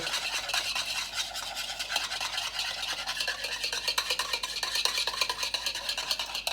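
Salad dressing for a Mediterranean quinoa salad is whisked in a bowl, giving a continuous rapid scraping and swishing that is quick, close and fairly quiet, with no talking over it.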